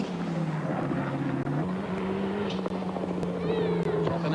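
A Mitsubishi Starion race car at the 1986 Hardies Heroes mountain event runs with a misfiring engine, a loud, steady drone with a few brief stumbles and dips, heard close and continuous.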